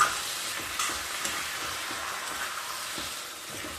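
Vegetables being stirred as they fry in a pan for a winter sabzi, a steady close sizzle with scraping stir strokes throughout, no talking.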